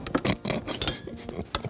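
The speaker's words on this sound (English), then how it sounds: "Give them a stir in that basil-y goodness." Courgettes stirred in basil oil, a quick run of light clinks and scrapes of a utensil against a pan or dish, close and fairly soft, with brief pauses between strokes.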